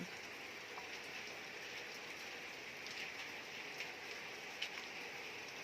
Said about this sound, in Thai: ตอนนี้ฝนตกนะคะ ฝนตก